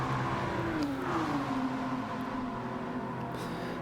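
Nissan race car engine in Gran Turismo 7 at the High Speed Ring, a steady droning whine with a pitch that slides downward then holds, close and continuous, with faint other cars around.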